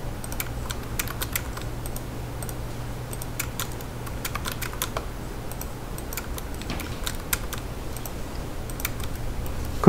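Close computer keyboard typing with scattered sharp key clicks and presses of the Enter key, steady and alone against a low hum, with no talking.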